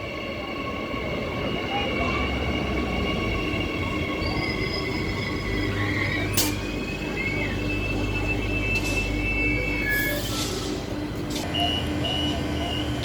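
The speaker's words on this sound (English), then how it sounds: "Train now leaving platform number 1 Perth service" A six-car EMU passenger train leaves the platform at Clarkson station with a steady low rumble of wheels and motors, thin high wheel squeals rising over it, loud and continuous throughout.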